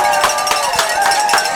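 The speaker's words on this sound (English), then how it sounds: "Big crowd here for the Billies." Hometown Fredericksburg fans cheer loudly and continuously for the Battling Billies at a high school regional finals baseball game against Navarro, a dense crowd roar with repeated clangs like a cowbell pulsing through it.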